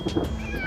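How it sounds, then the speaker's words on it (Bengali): A cartoon cat gives a single drawn-out meow, fairly loud and close, with a wavering pitch. "পুতুল বিড়ালটা ডাকছে সত্যি বলছো"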